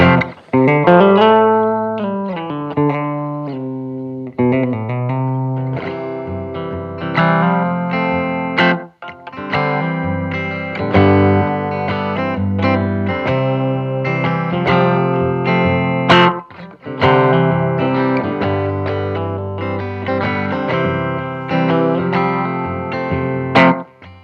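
Distorted electric guitar chords and notes played through a delay pedal ring out with lingering effected tails, no amp reverb, played alone and loud, trailing off between phrases.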